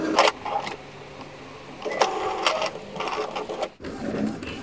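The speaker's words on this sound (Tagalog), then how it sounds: "Try ulit natin mag-nozzle check." An Epson L series inkjet printer printing a nozzle check page, with rapid mechanical whirring of the print head shuttling back and forth, punctuated by clicks and clunks of the paper feed, heard close and moderately loud.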